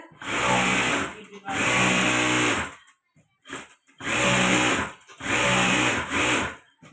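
Sewing machine stitching a bag, running in four fast loud bursts of a couple of seconds each with short pauses and a brief stutter between them.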